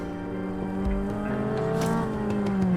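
A Toyota MR-S engine revs high and climbs in pitch, a sporty whine rising and holding close by on a mountain pass, with a brief tire-like squeal.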